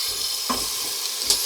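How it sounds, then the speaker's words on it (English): Onions sizzle steadily in a hot Instant Pot, a close hissing crackle with a couple of soft stirring scrapes. "the intensity of the sizzle is picking up because the onions are releasing their juices"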